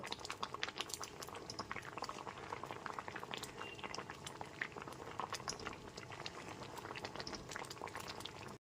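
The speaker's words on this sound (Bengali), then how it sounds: "হলুদ গুঁড়োটা দিয়েও খুব ভালো মতো মিশিয়ে এক থেকে দেড় মিনিট একটুখানি ডালটা ফুটিয়ে নেব" Moong dal with papaya and turmeric simmering in a pot: dense, steady bubbling and popping at close range, continuous and fairly soft, with no voices.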